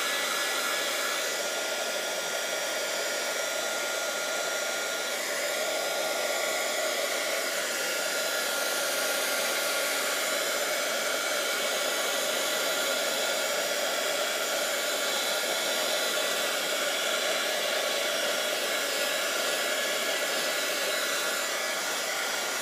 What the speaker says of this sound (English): Okay, so now I'm just gonna dry. If my heat gun wants to work